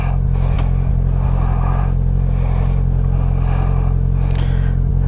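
A Polaris Slingshot in winter drives off with a loud, steady engine drone and low rumble, the motor revving under some road clatter and wind buffeting, no talking.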